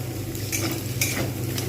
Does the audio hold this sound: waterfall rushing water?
no